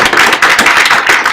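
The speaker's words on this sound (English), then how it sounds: "join me in a round of applause for the speakers" A room of people at an evening panel talk applauds the speakers, a dense, steady wash of many hands clapping close and loud for the whole moment, with no voices over it.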